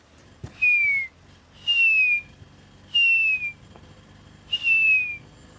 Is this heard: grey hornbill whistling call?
yes